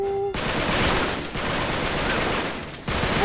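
Sustained rapid gunfire from the Uncharted 3: Drake's Deception video game, a dense continuous fusillade of automatic shots filling most of the clip with brief pauses near the start and end.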